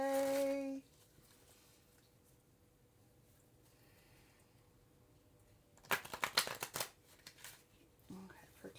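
A brief burst of riffling, slapping tarot card shuffling, close and crisp, after a quiet stretch following a short tone at the start.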